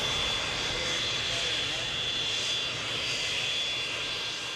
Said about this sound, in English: King Hussein of Jordan piloted his own plane to London